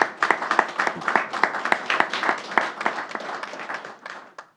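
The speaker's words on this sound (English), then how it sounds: "If we give everyone them a round of applause" Applause from an audience at a New York State Police ceremony, with a public safety announcement by Governor Kathy Hochul. Distinct claps ring out densely and unevenly, then thin out and stop near the end.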